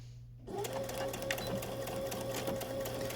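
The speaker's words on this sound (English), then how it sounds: "what I'm going to do is go ahead and sew all the way down to that dot." After a brief hush, a sewing machine starts stitching a fly seam and keeps up a soft, steady, quiet mechanical whir with a low hum underneath.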